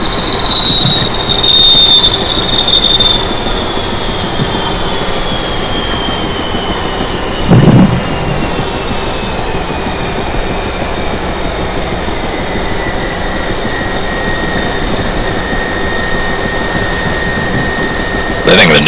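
Inside a train on the Northeast Corridor line near Secaucus Junction, a loud steady rumble of wheels on rails runs throughout, with high wheel squeal early on and a brief clunk midway.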